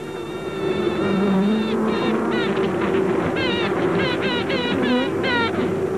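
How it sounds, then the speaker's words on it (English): A new honeybee queen piping as she emerges from her cell: repeated high, rising tooting notes in short bursts over a steady buzzing hum of the colony. "It's the sound of the new queen as she emerges into the bee colony."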